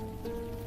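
Pouring rain in the Unavowed game sounds as a brief, quiet, steady wash of noise with a faint hum underneath.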